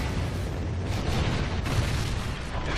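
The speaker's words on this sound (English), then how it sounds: "Friendly Trinity rocket inbound." A Trinity rocket strike detonates in a video game, a loud sustained roaring blast that rumbles continuously for a few seconds with dense low-end boom and no speech over it.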